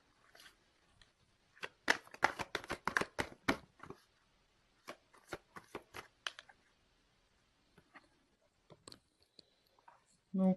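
Tarot cards are shuffled and drawn by hand: quick clusters of crisp card snaps and riffling flicks come in busy bursts, then thin out to sparse, separate taps in a quiet room.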